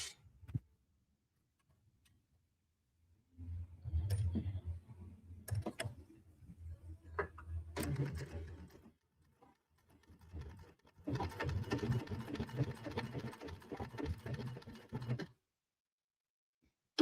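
A home sewing machine stitching over fabric runs in two bursts of steady whirring and rapid needle ticking, separated by a pause, with quiet silence before and between.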